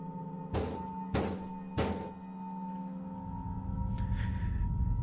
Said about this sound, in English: if somebody's banging hard like that, don't answer it